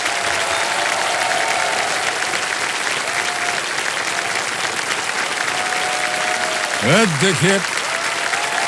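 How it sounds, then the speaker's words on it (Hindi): Sustained studio-audience applause fills a KBC Season 17 game-show set after a contestant's correct answer, steady and dense throughout, with a host's voice briefly speaking over it near the end. "और तालियां बजती रहे।"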